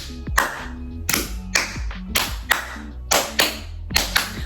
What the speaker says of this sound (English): I just hear everybody smacking and patting and snapping